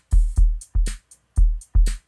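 A sequenced drum pattern from an SDS-x sequencer plays a short loop of deep, punchy kick drum hits with crisp snare-like accents on top, close and dry with gaps between beats.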